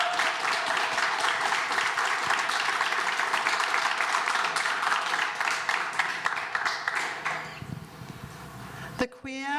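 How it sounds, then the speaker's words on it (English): Sustained audience applause at a queer arts event, dense clapping from a crowd that holds steady and then thins out and fades near the end, with a voice briefly heard over it. "if you could give George and the lovely creatives a wonderful round of applause"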